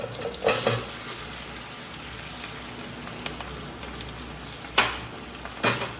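Potatoes sizzle steadily in hot oil with spices in a pan, a constant crackling fry with a few louder stirring scrapes and clinks of a utensil against the pan.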